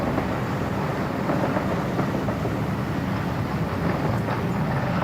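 An OO gauge model of an SR 2-BIL electric unit, number 2114, runs steadily with a continuous rumbling, rail-like roar, close and even in level throughout, with no talk.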